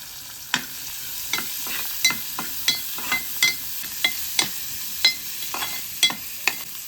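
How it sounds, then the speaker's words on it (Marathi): Onion and green chili frying in a pan while a spoon stirs, producing a steady soft sizzle punctuated by a dozen sharp scraping clicks at a regular rhythm, close and moderately loud with no talking. "हिरवी मिरची, आता थोडा कांदा टाकून घ्यायचा."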